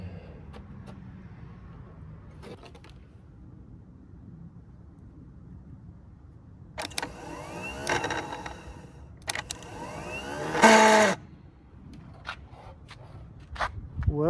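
A 1962 Stingray boat's Homelite 55HP outboard starter, jumped with wires bypassing the solenoid, spins in a few short whirring bursts between clicks and handling noise, with one louder burst near the end.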